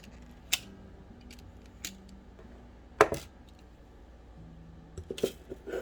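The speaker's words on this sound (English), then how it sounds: "now we will snip a few more lengths of wire off" Wire is snipped into lengths for wire-wrap weaving, heard as a few sharp, isolated cutter clicks spaced apart against a quiet background.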